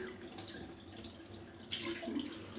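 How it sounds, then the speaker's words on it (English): Tap water runs over a shaving brush as it is rinsed under the faucet, a steady hiss with a few louder splashes as the stream hits the bristles, close and alone. "just give it one more rinse underneath the tap"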